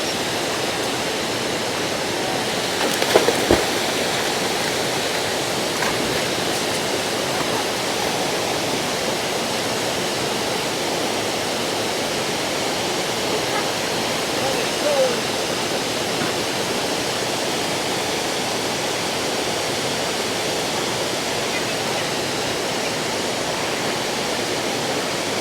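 McCloud Falls pours in a steady, full roar of rushing water that stays even and close throughout, with a brief sharper splash near the start and no voices.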